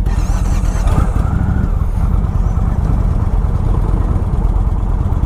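A 2018 Indian Chief Dark Horse motorcycle's big V-twin engine running close up, a loud steady low rumble with a slight rev near the start, no talk.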